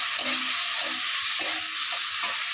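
Prawn chorchori frying in a pan with spices in oil, a steady broadband sizzle with faint stirring scrapes and no talk.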